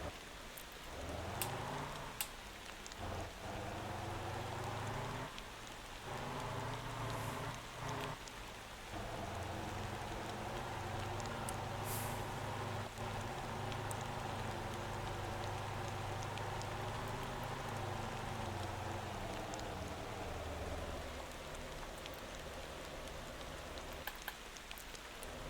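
Steady rainfall in the driving simulation game Motor Town, a continuous dense hiss of drops on surfaces lasting throughout, with a low vehicle engine drone underneath and no talking.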